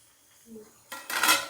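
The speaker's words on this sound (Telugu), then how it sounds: "మూత పెట్టేస్తున్నాను" Metal clatter of a lid set onto a cooking pot of tomato, green chilli and ginger-garlic chutney on a lowered flame, a couple of quick clanks ringing out close by after a quieter scrape.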